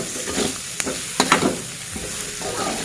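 Seasoning paste frying and sizzling in a pan while it is stirred, a steady crackling hiss with a few sharp scraping clicks of the utensil, close and fairly loud with no voice over it.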